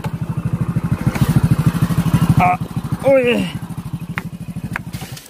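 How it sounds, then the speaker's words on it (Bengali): A motorcycle engine chugs close by in a fast, even pulsing rhythm, slowing and settling as the bike pulls to a stop, while someone talks over it. "বাইকটা স্টপ করো, বাইকটা স্টপ করো।"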